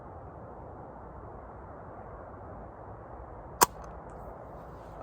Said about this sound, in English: Shooting kind of weak.